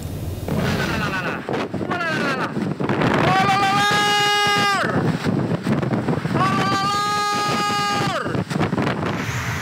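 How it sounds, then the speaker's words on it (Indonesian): Violent whirlwind winds of a tornado at Cengkrik Reservoir, Ngemplak, Boyolali, Central Java, roar in a loud, steady rush with buffeting gusts, while voices cry out in rising, drawn-out shouts over the wind. "Angin puting beliung di wilayah Waduk Cengkrik, Kecamatan Ngemplak, Boyolali, Jawa Tengah ini terekam video amatir warga."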